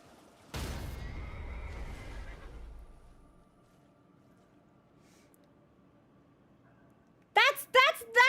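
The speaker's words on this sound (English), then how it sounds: "That's the horse death sound." In a video game, a horse dies with a loud, harsh whinny and snort that trails off over a couple of seconds, followed by a quiet stretch and then a few sharp, high cries at the end.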